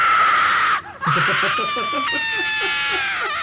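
A shrill, piercing Slendytubbies scream from a horror video game rings out loud and sustained, briefly breaking off before wavering on with warbling, wailing tones.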